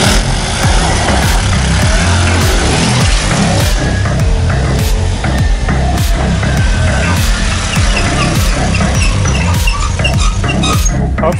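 A Racer Meteor scooter engine runs steadily and loudly up close, a continuous rough mechanical drone with a rapid pulsing rhythm; the scooter has a repaired variator and a re-welded muffler.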